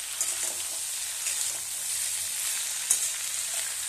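Papaya, potato and drumstick pieces fry in a pan for Bengali shukto, giving a steady close sizzle with occasional soft stirring scrapes and a brief crackling burst.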